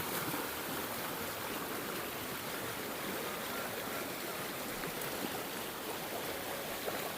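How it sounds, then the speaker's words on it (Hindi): The Mandakini river in Chitrakoot flows down from the hills with a steady, even rush of water that runs without a break. "और ये है मंदाकिनी नदी जो पहाड़ों से बहती हुई आ रही है"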